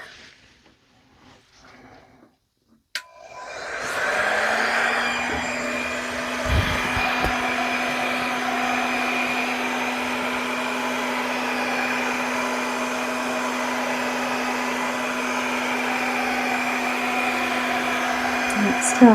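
After a few quiet seconds, a hair dryer switches on and blows steadily over wet paint pigments, a loud, even whirring drone with a constant motor whine that runs to the end.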